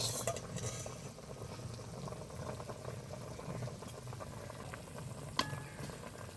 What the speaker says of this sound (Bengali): টকটা টক টক করে ফুটছে, এই যে দেখুন